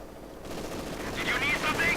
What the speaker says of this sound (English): Machine gun bunker here still holding up nicely, although might not continue to do so.